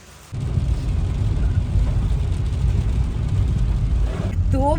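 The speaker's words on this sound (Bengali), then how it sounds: "বৃষ্টি হচ্ছে" Heavy rain pours over a car driving at night on the way to the airport, a dense, steady roar and hiss that starts abruptly and continues close and loud to the end.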